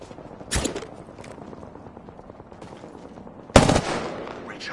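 Two short bursts of video game gunfire ring out, one early and a louder one later, over a steady low background hum with no talking.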